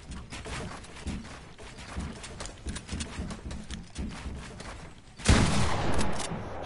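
Bursts of gunfire from a PS4 shooter game, a dense rattle of rapid shots through most of the stretch, then a sudden louder burst near the end.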